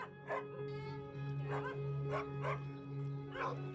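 Dogs barking at a home visit, a series of about five sharp, moderately close barks and yips with a few brief whimpers, over a steady low hum.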